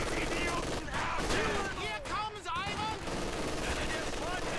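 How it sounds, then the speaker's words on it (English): An MG42 machine gun fires in a Company of Heroes 2 tournament match, rapid bursts mixed with other battle effects and whistling shells, while a commentator talks over the game. "MG42 suppressing."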